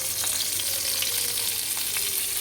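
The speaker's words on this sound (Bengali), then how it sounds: "আর দেবো একটুখানি পাঁচফোড়ন।" Panch phoron and green chillies fry in a little hot oil in a kadai on an induction cooktop, making a dense, loud, continuous sizzle with faint crackles, close by with no voices.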